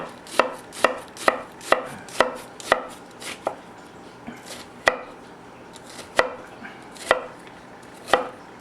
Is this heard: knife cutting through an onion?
yes